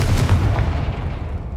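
A Confringo explosion spell in Hogwarts Legacy lands as a loud, close, booming blast with a heavy low rumble that fades out over a second and a half.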